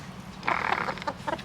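Purebred chickens kept in a chicken tractor give a short burst of clucking and squawking in the middle, with softer clucks trailing after it against a low outdoor background.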